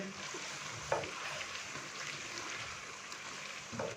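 Chicken karahi seasoned with black pepper being stirred in a wok, a steady low sizzle of frying under a couple of soft scraping strokes of the spoon.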